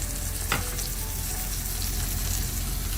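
Ginger garlic paste sizzles and crackles steadily in a pan with browned onions, with a brief scrape of stirring near the start, and the frying noise stays continuous and close throughout.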